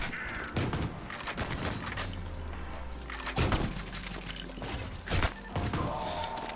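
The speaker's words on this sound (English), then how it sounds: "Who the fuck's shooting at me?" Enemy gunfire in the first-person shooter Ion Fury, a run of loud sharp shots and impacts scattered through the stretch over a dense game soundscape, with several heavier bursts standing out.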